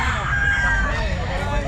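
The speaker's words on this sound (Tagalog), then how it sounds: "Ayan, ayan mga manok ni Sir Balong." A rooster crows at a pet market amid a noisy crowd, one drawn-out call rising over steady babble and low background rumble, fairly near.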